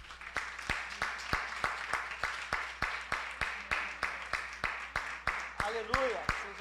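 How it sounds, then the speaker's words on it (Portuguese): A church congregation claps hands in praise in a steady, rhythmic beat of loud, regular claps over a room murmur, with a brief voice rising near the end. "louva teu Deus com as tuas palmas aí"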